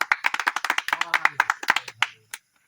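Applause from an audience at a stage event before a song, a brief burst of close, quick hand claps that thins out and stops within about two seconds.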